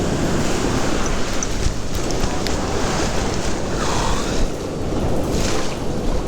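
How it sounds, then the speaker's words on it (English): Ocean waves break and wash onto the shore on a surf perch fishing beach, a loud continuous roar of surf mixed with wind buffeting the microphone, with no voices over it. "you see what I meant about the waves and how they come in sets?"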